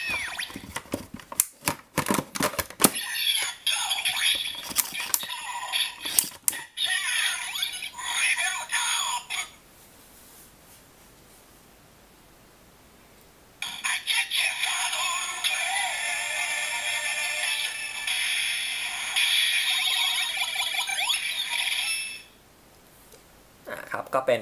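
A Kamen Rider Ex-Aid DX Memorial Finish Gashat toy playing electronic sounds, with bursts of clicks, beeps and bright synthesized jingles separated by a quiet pause, loud and close.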